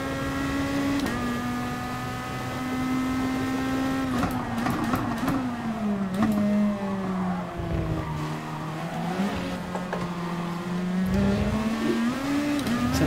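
A Volkswagen Scirocco race car sliding in GT Sport, its engine droning steadily with rising and falling pitch while tyres squeal and skid through the corner, continuous and close.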